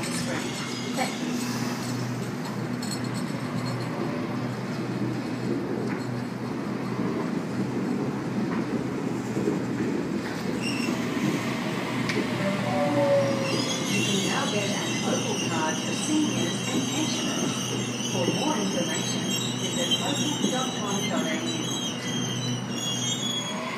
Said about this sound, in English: A48 now departing platform 4 here at Hornsby.